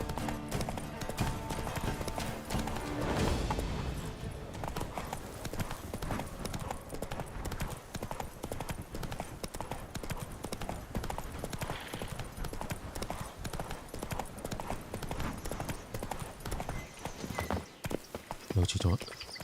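Roach, a horse in The Witcher 3: Wild Hunt, with hooves clip-clopping in a steady rhythm throughout as the horse is ridden, heard under loud game sound and someone talking over it.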